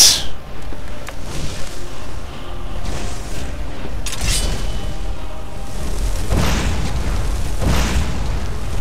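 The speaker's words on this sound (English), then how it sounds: "Exploding ice bolts." Exploding ice bolts bursting in Skyrim, several booming impacts with crackling bursts and a rumbling tail, loud and close, no talking.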